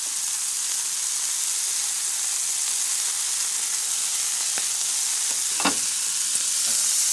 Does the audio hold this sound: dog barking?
no